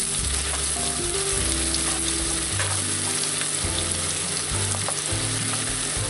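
Sliced pork neck frying with onions in lard, a constant close sizzle with some stirring and scraping, no voices.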